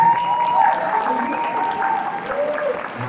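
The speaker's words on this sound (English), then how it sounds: "Round of applause" A convention audience at a fan panel claps in a sustained round of applause, dense and fairly loud, with voices and cheers mixed into the clapping.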